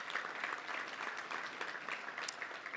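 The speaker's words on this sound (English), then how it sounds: "Let's give them all a round of applause" Sustained applause from a banquet crowd at a touchdown club gathering, honoring the volunteer staff; dense, steady clapping fills the room evenly from start to finish with no speech over it.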